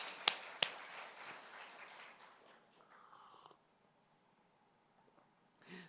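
A church congregation claps together in a short burst of applause with a couple of sharp early claps, then fades into near quiet after a few seconds.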